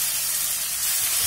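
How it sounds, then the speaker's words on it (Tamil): Mashed tomatoes hit a hot pan for lemon rasam, giving a steady, close hiss of sizzling that holds evenly for the whole moment with no voices. "இப்ப நம்ம பிசைஞ்சு வச்சுக்கிற இந்த தக்காளியை சேர்த்துக்கலாம்"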